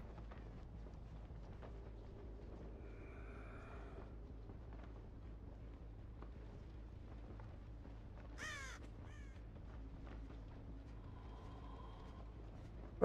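Crows caw in the horror game Dead by Daylight, a few harsh calls standing out around the middle over a low ambient rumble, faint and alone with no talk.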